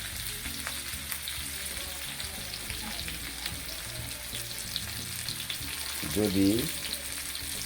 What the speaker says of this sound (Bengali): আমার এই ইলিশ মাছ ভাজি